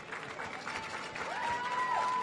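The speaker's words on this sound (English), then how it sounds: "please give a round of applause for the president of the Miss Universe organization, Paula Sugar!" An audience applauds at a Miss Universe preliminary, a steady dense wash of clapping from a large crowd that swells slightly toward the end, with a faint tonal sound rising beneath it.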